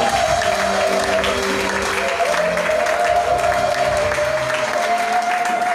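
A church congregation claps and cheers loudly and continuously throughout, a dense wash of applause with a sustained tone from voices or instruments mixed in.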